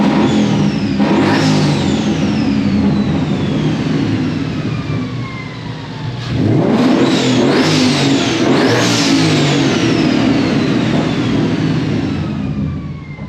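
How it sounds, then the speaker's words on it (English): A Ford Mustang S550 running steadily after a fuel pump replacement, loud and close throughout, with repeated rising rev sweeps near the start and again around the middle, then settling back. "Car sounds pretty good now that it actually has fuel going to the engine."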